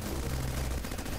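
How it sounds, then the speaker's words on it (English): Light machine gun fire in the video game Bionic Dues, a dense continuous burst sustained loudly for just over a second with no pause between rounds. "Okay, light machine gun."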